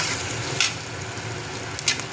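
Spices frying in a pan with turmeric and salt: a steady close hiss of hot oil with two short scraping stirs, and no talking.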